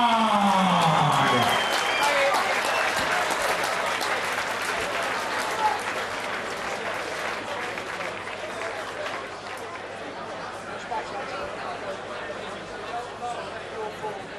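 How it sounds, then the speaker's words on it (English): Applause for the runner-up at a Cage Rage 6 mixed martial arts cage fight: dense, sustained clapping from a large indoor crowd, loudest at the start and slowly thinning, with an announcer's voice trailing off at the opening. "let's hear it for your runner-up, Marc Goddard!"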